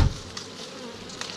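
Honey bees from a captured swarm buzz in a steady, moderately faint drone with a few louder passes near the start and end, heard alone without speech.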